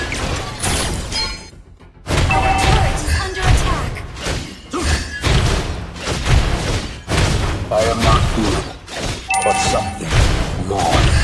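A turret is destroyed in Mobile Legends: Bang Bang, loud crashing thuds and impacts with metallic dings in a dense game mix, punctuated by a brief quiet gap before the barrage resumes.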